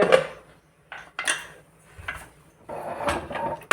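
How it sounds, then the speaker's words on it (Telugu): Metal lid set onto a pot of spicy mutton curry in a home kitchen, giving a few separate clanks and scrapes of cookware, close and moderately loud with short quiet gaps between them. "మూత అయితే పెడుతున్నా"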